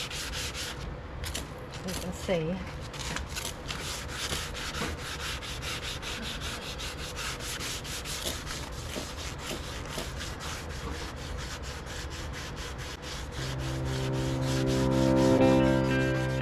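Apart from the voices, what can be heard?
sanding yellowed car headlight with 300 grit sandpaper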